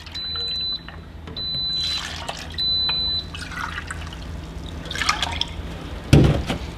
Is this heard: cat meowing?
no